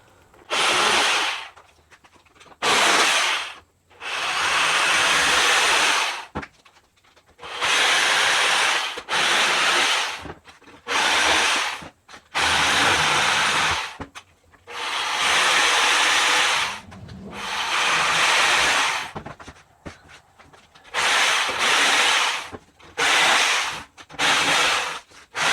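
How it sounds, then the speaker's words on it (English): A Sawzall reciprocating saw cuts the top off a plastic crate in repeated bursts of harsh buzzing, each run lasting one to three seconds, separated by short pauses, loud and close. "For quickness and efficiency, I'm going to be using my Sawzall."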